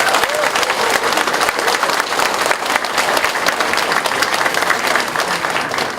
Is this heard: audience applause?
yes